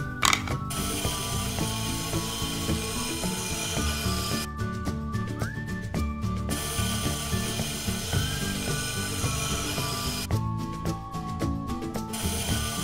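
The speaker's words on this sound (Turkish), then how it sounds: "Tıraş makinesiyle düzeltelim." A toy hair clipper from a play-dough barber playset gives a steady ratcheting, clicking mechanical sound that runs through the whole stretch, layered over bright background music.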